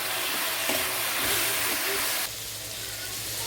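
Brinjal frying in oil with salt in a pan, a steady close sizzle and hiss that runs throughout, dropping slightly in level partway through.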